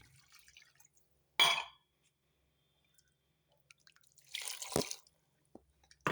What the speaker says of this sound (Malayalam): ഇനി നമുക്ക് ഇതിലേക്ക് 1 കപ്പ് വെള്ളവും കൂടെ ഒഴിച്ചു കൊടുക്കാം.